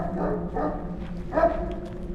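A dog barking in a forest horror video game, three short muffled barks in quick succession at moderate distance over a low ambient hum.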